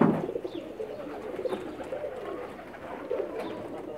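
Pakistani pigeons coo softly at close range, a few low, throaty, repeated calls over quiet background.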